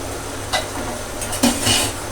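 A lid is set onto a pot of fish curry cooked without tomato, giving a couple of brief metallic clanks and a soft clatter of cookware over a steady background hiss, with no talking.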